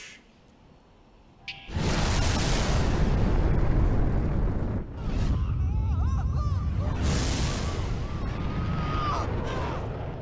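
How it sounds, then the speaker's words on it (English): A missile explodes in Bayonetta. After a quiet start, a sudden loud roaring blast rumbles on, briefly dips, then surges again with crackling debris. "He was saved by a missile."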